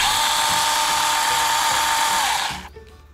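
A pole chainsaw runs bare, without its extension pole attached, giving a loud steady high whine from a small motor at close range before it cuts off sharply near the end.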